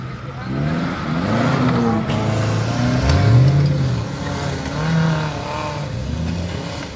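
An off-road 4x4 car engine revs hard at a muddy off-road event, rising and falling in pitch over several seconds, fairly close, with people talking alongside.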